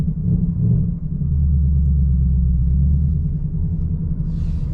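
A 2024 Ford Mustang GT with a six-speed manual gives a deep, steady exhaust rumble from inside the car, loud and even, with the low drone swelling slightly partway through and no talking.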